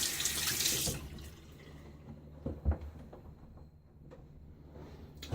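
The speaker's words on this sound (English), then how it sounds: "I'm gonna splash a little bit on my face one more time." Water running from a tap into a bathroom sink during a wet shave, loud and close for the first second, then fading to quieter splashes and drips with no talking.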